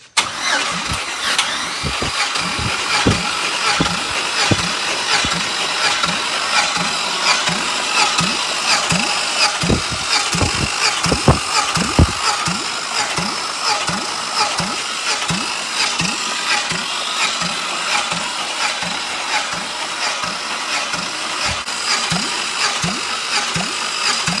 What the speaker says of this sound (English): we'll spin it over with the starter, no plugs in it, and see it, watch it build oil pressure